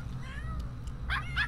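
A pet cat named Ichabod in The Sims 3 gives a couple of short, mid-pitched meows near the end, over a steady low hum of game background sound.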